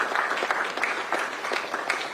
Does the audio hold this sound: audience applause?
yes